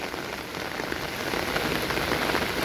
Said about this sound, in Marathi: कंटिन्यू पाऊस पडतोय, कंटिन्यू.